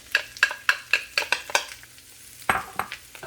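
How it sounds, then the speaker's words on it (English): Vegetables stirred into noodles in a hot pan for a meatless steak-style pad thai, with a steady hiss of sizzling under a run of rhythmic scraping stirs, then a louder clatter near the end. "Let's mix vegetables in here."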